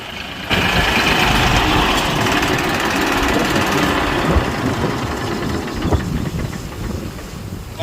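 Tractor engine running steadily while pulling a harrow through a farm field, a loud, continuous rumbling drone with a gritty hiss that holds for several seconds without a break and with no voices.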